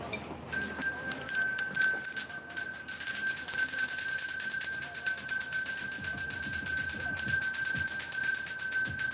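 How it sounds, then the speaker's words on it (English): A small bell rung repeatedly with bright, rapid metallic strikes and a sustained shimmering ring, loud and close, continuing steadily for several seconds. "So I'm just going to ring the bell."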